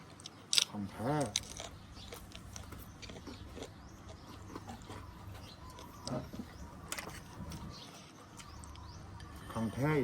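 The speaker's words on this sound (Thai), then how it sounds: "ขออนุญาตกินข้าวก่อนครับ" Someone eats a meal of rice with soft close-up chewing and smacking, while quiet talking and faint clinks run underneath throughout.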